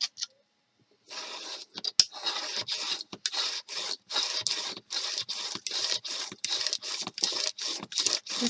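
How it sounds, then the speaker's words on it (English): A rotary cutter rolls back and forth through sheets of paper for notebook refills, giving a steady run of close, crisp scraping strokes after a brief silence. "This is what I like about the rotary cutter, just the rolling back and forth"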